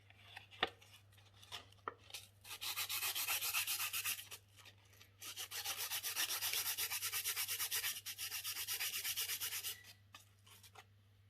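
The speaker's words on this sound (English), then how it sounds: "Sharpening up a bit more with another sandpaper." Sandpaper scrubbing across a chiaroscuro drawing in the manner of Caravaggio, close and quiet: a few light taps, then two long runs of fast, even back-and-forth rasping strokes separated by a short pause, over a low steady hum.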